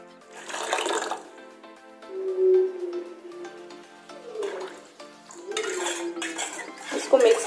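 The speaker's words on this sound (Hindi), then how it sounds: "ठंडा पानी डालूंगी।" Cold water is poured into a salted spice mixture to make panipuri pani, coming as several close splashing pours separated by pauses, with clinks of a vessel and utensils in between.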